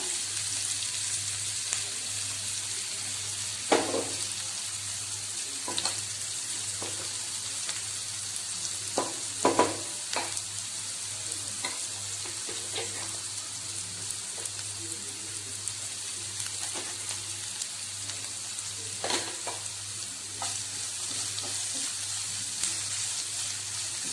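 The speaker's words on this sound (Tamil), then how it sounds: "இதில் நம்ம அரைச்சி வச்சுருக்க நம்முடைய அந்த க்ரீன் மசாலாவை சேர்த்துக்கிறோம்" Ground green masala sautéing in a pot for moringa rice, a steady fine sizzle broken by occasional spoon clacks and stirring scrapes, close and even, with a low hum underneath.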